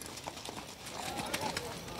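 Horse hooves clip-clopping on the ground at a horse fair in Cachoeirinha, Pernambuco, an uneven patter of steps under a steady crowd and outdoor din, with people talking nearby.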